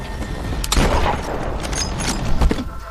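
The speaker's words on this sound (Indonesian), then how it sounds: "Setelah baku tembak yang terjadi" A gunfire exchange in a film scene, with rapid overlapping shots and booms across the whole stretch. Bursts cluster near the start and again near the end over a dense noisy background.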